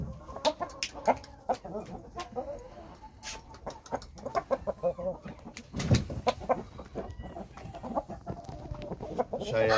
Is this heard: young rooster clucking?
yes